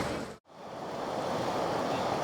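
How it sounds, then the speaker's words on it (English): Popa Falls on the Cubango River cascades over a rock bar, a steady broad roar of rushing water broken by a brief dropout, with wind noise on the microphone. "there seems to be like a rock bar across the river here and the falls cascade down"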